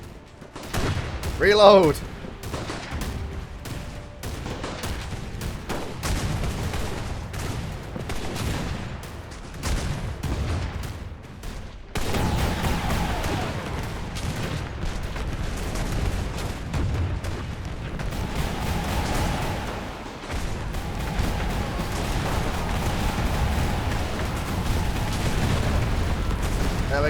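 Airship weapons firing in the game Airships: Conquer the Skies: rapid, repeated gunfire-like cracks and booming volleys rolling on continuously, loud and dense, with a person talking over the barrage.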